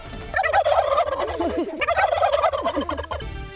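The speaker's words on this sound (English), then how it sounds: "It sounds exactly like a turkey's mating call." A rapid, warbling gobble like a turkey's mating call from a fighting game character, repeated in two long bursts, loud and close with nothing else behind it.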